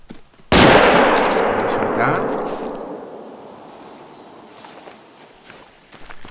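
A single loud, close gunshot from a .300 cannon rifle fired at plains bison in theHunter: Call of the Wild, Yukon Valley, booming sharply then echoing and fading over several seconds, followed by faint rustling.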